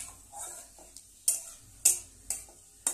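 Dry red chillies and five-spice seeds crackle in hot oil, a soft steady sizzle broken by several sharp, bright stirring scrapes about every half second, close and alone.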